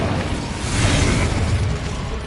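An Incendio fire spell in the Hogwarts Legacy video game gives off a short roaring, crackling burst of flame noise, broadband and fairly loud, swelling slightly midway before easing off.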